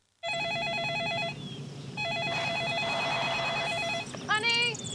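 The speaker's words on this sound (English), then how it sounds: "Honey, Jerry's on the phone." A telephone rings in a TV commercial, sounding as two loud electronic bursts of a repeating warbling tone that are close and clear, with a short pause between them, followed by a brief voice.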